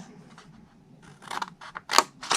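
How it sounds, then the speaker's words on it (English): Scissors snip through a paper rectangle for a Stampin' Up square box, a run of close, crisp cuts that grow louder and quicker toward the end. "we're going to cut the rectangle straight"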